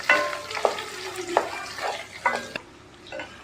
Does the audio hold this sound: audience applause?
no